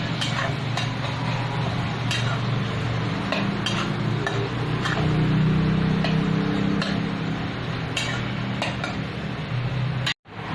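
Tomatoes simmering in a pan for a spicy tomato thecha, a steady close bubbling and soft sizzle with occasional light clinks of a utensil against the pan, no voices.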